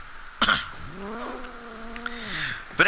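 Venari, a kavat cat companion in Warframe, lets out a long, wavering yowl framed by sharp hits from the game; the cry is loud and close, with no one speaking over it.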